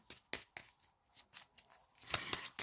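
Tarot cards shuffled and laid out by hand during a reading, giving a run of crisp papery riffles and flicks in short bursts with quiet gaps, close and fairly soft, with no talking.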